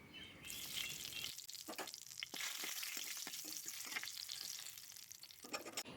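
Whole cumin, dried red chillies and bay leaves sizzle and crackle in hot oil for a Kosu Bao stir-fry, with steady frying hiss and sharp popping clicks, close and continuous, with a spoon stirring the pan now and then.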